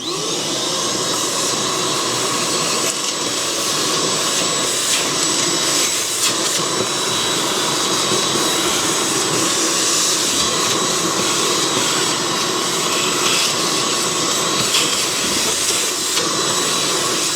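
TROURAY ash vacuum sucking up fallen ash beside a unit: a loud, continuous, hissing motor roar with airflow that holds steady throughout, with no talk.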